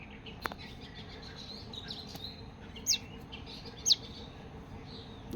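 A young bird called Tuni, kept at home, calls out for its mother with two short, high chirps spaced about a second apart, faint against a low background hum.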